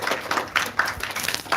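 Brief burst of audience clapping at a junior high school student council leadership training event in Padang, a short scattered patter of hands that is moderately loud.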